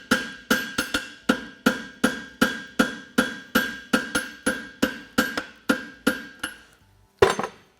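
A cross-peen hammer strikes hot steel while forging a Swiss hind horseshoe, about sixteen crisp ringing blows in a fast, even rhythm, close and loud, pausing before one final heavier hit.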